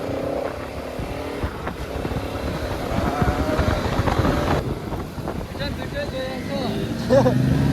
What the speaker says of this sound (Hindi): भाई इंजन गरम हो रहे हैं फैन भी चल चुके हैं